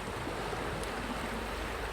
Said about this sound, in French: on entend les vagues et les mouettes au loin